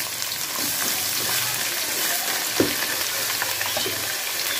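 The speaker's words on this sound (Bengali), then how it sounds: "পেঁয়াজ কুচিটা আমি তেলের মধ্যে হালকা ব্রাউন কালার করে" Chopped onions fry in hot oil toward light brown, a steady close sizzle with a single small knock partway through and no talk over it.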